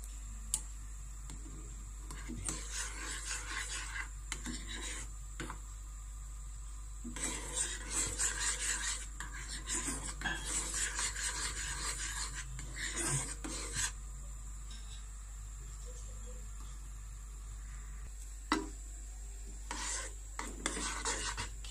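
Kheer filling for patisapta pitha being stirred slowly in a pan over medium heat, giving soft intermittent scraping and rubbing strokes in bursts separated by quiet pauses, with no talking.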